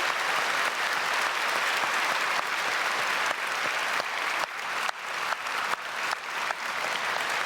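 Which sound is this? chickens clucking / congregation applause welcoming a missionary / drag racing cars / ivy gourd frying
congregation applause welcoming a missionary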